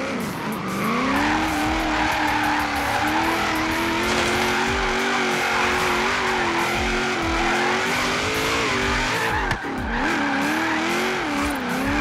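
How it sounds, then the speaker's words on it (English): A car drifting in Forza Horizon 3, engine held high and droning steadily while tires squeal continuously through the slides, loud and close with small pitch wobbles as the car swings through corners. "drift around some corners"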